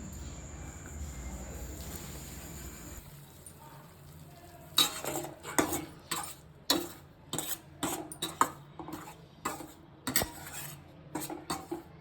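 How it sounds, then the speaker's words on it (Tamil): Ragi flour roasts in ghee in a kadai, starting with a soft sizzling hiss and then giving way to a run of close, sharp scraping and clicking stirring strokes in an uneven rhythm. "அதை அந்த கடாயில் போட்டு நல்லா வறுத்து எடுத்துக்கலாம்"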